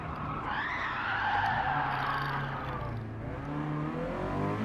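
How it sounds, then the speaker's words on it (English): Toyota GT86 or Honda DC2 Integra Type R braking hard into a hairpin, tyres scrubbing and squealing in a long sustained skid over the engine's drone, loud and close. "I'm going to brake now. Slow down."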